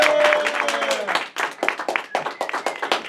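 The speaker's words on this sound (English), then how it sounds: "give him a round of applause" A comedy-night audience claps for a stand-up comedian, starting as dense, loud applause and thinning to scattered individual claps, with a brief voice over the opening.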